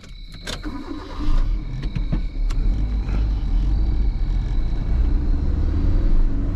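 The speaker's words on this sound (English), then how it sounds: "let's just drive the car." A Tamiya TT-01 RC car on a stock 3S setup drives steadily, its motor giving a continuous buzzing whir over a low rumble, with a few sharp clicks near the start.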